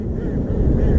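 Wind gusts while fishing from a boat on open water, a steady low rumble buffeting the microphone throughout a brief moment, with no talk over it.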